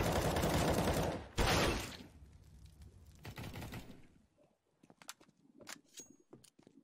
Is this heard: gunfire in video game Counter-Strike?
yes